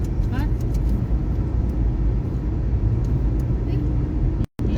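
Road traffic rumbles as a dense, continuous low roar of passing vehicles, close and fairly loud. Voices talk over it, and it cuts out briefly near the end.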